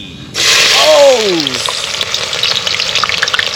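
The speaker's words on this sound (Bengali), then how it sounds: "এখন আমরা তেল দিয়ে দিচ্ছি সয়াবিন তেল পেঁয়াজ কুচি" Chopped onions hit hot soybean oil in an outdoor village pot, bursting into a loud, sudden sizzle that settles into steady crackling frying, with a brief whistling tone near the start.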